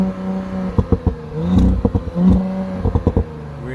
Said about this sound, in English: can I hear how this engine sounds one more time?